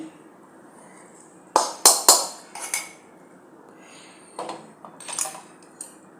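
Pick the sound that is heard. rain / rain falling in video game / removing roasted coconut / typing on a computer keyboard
removing roasted coconut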